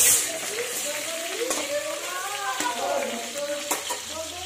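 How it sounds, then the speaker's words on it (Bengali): Potatoes fry in a pan, giving a steady crackling sizzle with occasional stirring, heard close up while someone talks over it. "এখানে আলু ভাজা বসানো হয়েছে"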